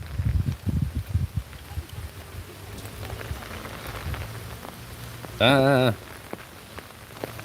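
Steady light rain patters on a phone screen outdoors at night, a soft constant hiss with faint taps, broken by a brief tonal electronic sound near the end.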